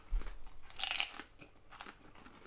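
Someone bites and chews hard prawn crackers close up, with a few sharp crunches followed by quieter chewing.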